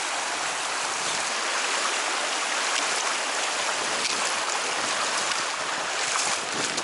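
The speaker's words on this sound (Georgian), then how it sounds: "მეორე წყლის გადასასვლელი" Steady rushing stream water at a trail water crossing on the Lavaredo Ultra Trail course near Cortina, a continuous broadband wash close by with no voices.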